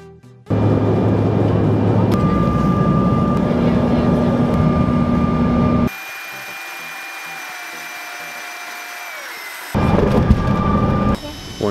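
Steady loud roar of a passenger airliner cabin during a flight from Denver, a broad constant rumble with tonal hums that drops abruptly to a quieter drone midway, then swells again near the end.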